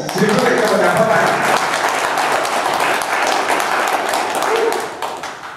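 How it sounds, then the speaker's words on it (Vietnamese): Audience applause at a Vietnamese community election vote-count and results announcement, a steady, dense roar of clapping lasting several seconds before tapering off, with voices mixed in. "xin quý vị cho một tràng pháo tay"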